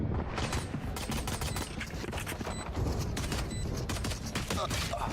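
Dense, continuous bursts of gunfire from an esports video game match, loud and sustained with overlapping shots throughout, with faint crowd or caster noise underneath.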